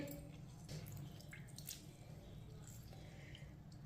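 Faint wet squishing and dripping as soggy bitter gourd is squeezed by hand to remove water, quiet and close, with no talking.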